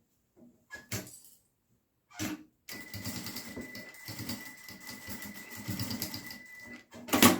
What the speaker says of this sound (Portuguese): E faz uma costurinha aqui por fora pra prender.